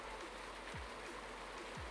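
Steady rain in the farming video game Farming Simulator 19 hisses faintly and evenly throughout, a soft continuous wash with a couple of dull low thumps and no voices.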